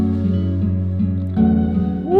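A small Electra X software synth patch plays a sustained tonal line with layered harmonics, a brighter swell entering midway and a rising glide near the end, heard alone without talk.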